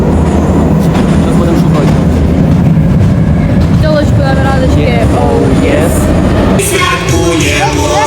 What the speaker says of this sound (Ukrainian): Мы едем в метро.